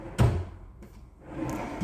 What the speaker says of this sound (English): If your soft closed drawer is not closing softly,